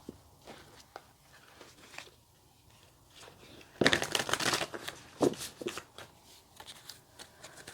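Beautiful Creatures tarot deck cards being shuffled by hand, soft riffling and flicking that swells into a louder, dense burst of card slaps midway before easing into lighter shuffles.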